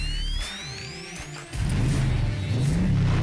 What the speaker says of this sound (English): There's nothing quite like the sound of a naturally aspirated engine.